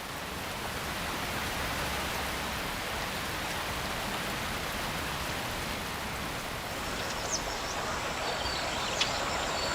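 Heavy monsoon rain falling over flooded wetland marsh, a dense, even hiss of downpour that holds steady throughout, with faint birdcalls emerging near the end.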